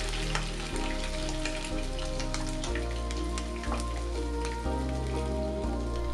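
Eggs poured into a hot frying pan with shrimp for a Chinese omelette set off a loud, steady sizzle and crackle that runs throughout, with no voices.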